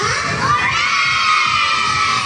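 A crowd of children at a kids' sports event shout and cheer together in a loud, sustained high-pitched roar.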